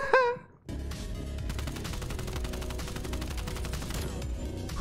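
Rapid sustained automatic gunfire from the shooter Black Ops Cold War in gun game mode, a dense continuous burst of shots lasting several seconds after a brief vocal exclamation.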